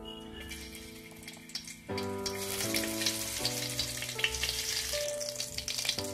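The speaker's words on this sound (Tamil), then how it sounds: "இப்போ சாம்பார் வெங்காயம் பொரிஞ்ச உடனே கடுகு போடணும்" Small sambar onions fry in oil, a steady sizzle that swells louder partway through and turns crackly and spattering, with a tonal hum running underneath and no talking.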